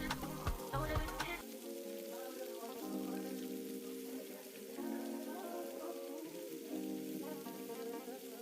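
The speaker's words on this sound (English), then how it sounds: "I'm just gonna stir in everything." Carrots, canned mixed vegetables and fresh string beans sizzle as they are stirred together in a large pot while making vegetable fried rice, a steady close frying hiss under soft background music after a brief clatter at the start.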